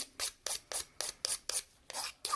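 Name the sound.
hand file roughening a surface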